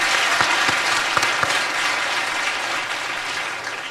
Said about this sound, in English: These girls need to be given a bigger round of applause.